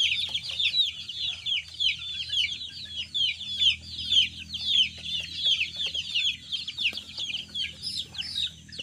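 One-month-old Tornado hatch gamefowl chicks, Mount Banahaw line, keep up rapid high-pitched peeping and cheeping close by, with a faint low hum underneath.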